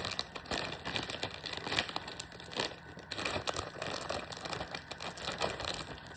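Plastic packaging around garlic, parsley and olive rusks is crinkled and crumpled close up in irregular crackling bursts through the whole stretch while someone struggles to open it. No talking is heard.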